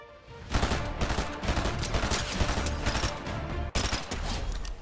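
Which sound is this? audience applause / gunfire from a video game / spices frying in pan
gunfire from a video game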